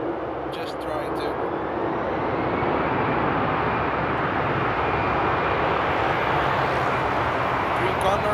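Airliner engines roar steadily at Frankfurt Airport on a winter morning, where a Lufthansa Cargo 777 is on the move, a broad sustained rush that swells slightly and stays loud throughout.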